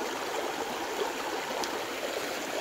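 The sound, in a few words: river stream flowing over stones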